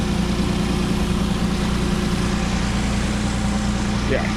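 Engine of a 1990 used car idling, a steady low rumble with a constant hum and an even tone throughout, heard up close with no talk over it.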